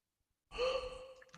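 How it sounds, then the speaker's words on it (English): A sampled breathing sound in a remix enters abruptly after silence, a single close, airy sigh-like breath with a faint tonal edge. "I put this little sound that I like. It's kind of like"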